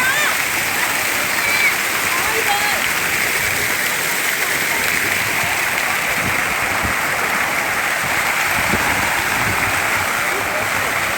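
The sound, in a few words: water show fountains splashing at Brindavan Garden, Mysore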